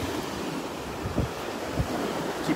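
Surf breaking along a Gulf beach at Delnor-Wiggins on a morning walk, a steady wash of waves with a couple of louder crashes, mixed with wind rumble against the microphone and no talk.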